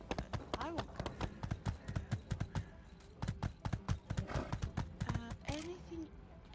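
Horse hooves clip-clop in the game My Time at Sandrock, a quick regular series of sharp, close steps running nearly the whole time, with a player's voice talking over them.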